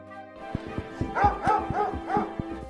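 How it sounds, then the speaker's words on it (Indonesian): A tracking dog barks in a quick series of sharp, close barks with a few yelps mixed in, standing out clearly against a quiet background. "Tiba-tiba anjing pelacak menggonggong ke arah bangunan lain yang lebih kecil."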